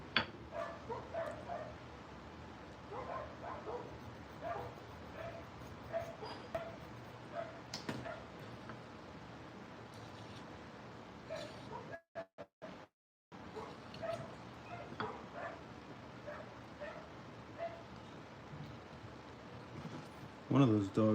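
A group of dogs that includes a husky barks and yips on and off at moderate distance, under and around a person talking throughout, with a brief dropout midway.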